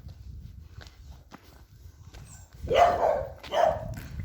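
A dog near a tractor gives two loud, close barks after a few seconds of footsteps and shuffling on the ground, with no talk.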